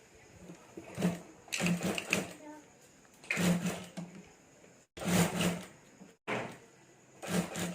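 A sewing machine stitching along a zip on a clutch bag, running in short bursts with pauses between them, close by, with a voice talking over it.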